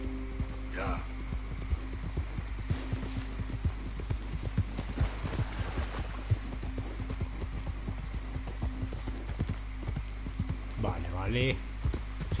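Horse hooves clip-clopping in Red Dead Redemption 2, a steady rapid train of close hoofbeats throughout over a low hum, with a whinny-like call near the start and end.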